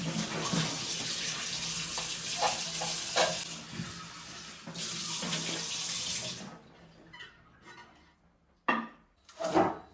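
Running water splashes across a wooden kitchen counter during washing, a steady gush that stops partway through and then returns in short bursts with wiping sounds.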